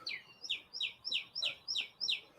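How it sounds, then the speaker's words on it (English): Birds chirping outdoors in a quick, regular series of about seven bright, sharp call notes, close and clear over a quiet background. "I don't know how well you can hear the birds with the new microphone setup, but yeah, they're going nuts."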